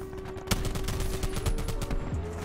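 Rapid bursts of automatic gunfire from the Reaper in Black Ops 4, a dense, sustained volley of close, loud shots with a sharp opening crack.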